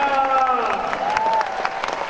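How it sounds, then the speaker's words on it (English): Seminar crowd applause at the Millionaire Mind Intensive, clapping and some cheering from many people, with a voice talking over it at the start. "Give yourselves a big round of applause!"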